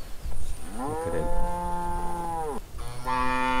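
An odd-coloured cow gives a long, loud, close moo that rises, holds and drops away, followed by the start of another low call, with no talking over it.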